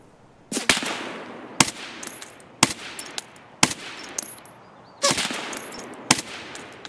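AK-12 rifle gunfire in the Escape from Tarkov video game, loud close bursts of rapid shots fired at an even rhythm of about one burst per second, with no talking over them.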